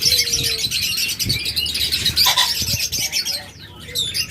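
Caged pet budgerigars or lovebirds chirping and tweeting busily, several birds calling at once close by, a continuous bright chatter with scattered louder squawks and no talking.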